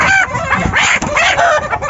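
Aseel hens clucking and squawking loudly and continuously as they are caught by hand, their agitated calls close and overlapping throughout.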